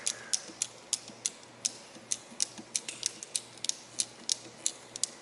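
A cable ratchet tool in a dark high-voltage lab clicks sharply again and again as its cable is pulled in. The clicks come close and distinct in an irregular but steady rhythm over a low background hum.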